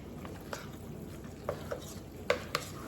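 Stuffed bell pepper filling of meat and rice is mixed by hand in a bowl, giving faint squelching with a few sharp clicks and taps against the dish, quiet and sparse, with no talking.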